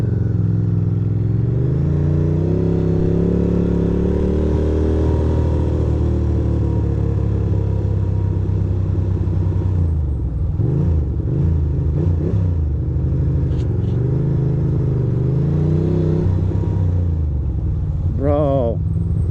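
A boat engine idles and rumbles as it warms up with the throttle untouched, a loud steady low drone that wavers slightly in pitch throughout.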